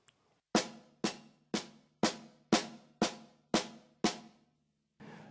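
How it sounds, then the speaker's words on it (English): Drumsticks strike a practice pad in an inverted paradiddle, with eight crisp, evenly spaced hits that each ring briefly before the next, close and alone, followed by a softer final tap. "it's just an inverted paradiddle"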